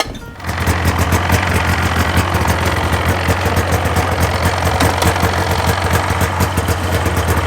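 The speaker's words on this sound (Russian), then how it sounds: "Дядя Вова завел Титан." A Titan vehicle engine, started in freezing frost, catches and settles into a loud, close, rapid idle with a steady knocking pulse and no speech over it.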